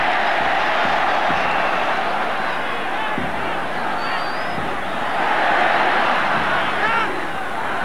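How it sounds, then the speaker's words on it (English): Football crowd at an Argentina versus West Germany friendly roaring in celebration after a win, a dense continuous stadium din with chants and shouts, swelling louder near the end. "the win itself is enough for the crowd to be celebrating"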